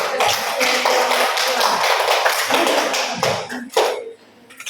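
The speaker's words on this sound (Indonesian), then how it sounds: "berikan aplaus dulu" A classroom group applauds in a dense burst of many hands clapping together. It carries on for a few seconds and then tapers off into a few scattered claps.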